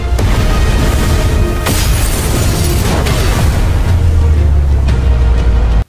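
A lion-shaped cannon fires on a fortress's defensive formation in an animated series, with a continuous loud, dense roar of blasts and rumbling impacts and no talk.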